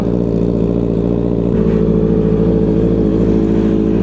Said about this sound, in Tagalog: pinapainit pa niya yung makina